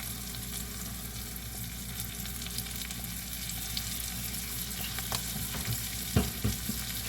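Onions sizzle steadily in a hot pan with garlic seasoning and black pepper, a continuous frying crackle with a few louder stirring scrapes near the end.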